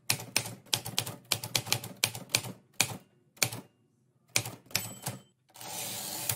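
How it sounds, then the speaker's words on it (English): A typewriter clacks in quick, irregular bursts of keystrokes separated by short pauses, close and crisp, ending in a steady hiss. "you got a typewriter?"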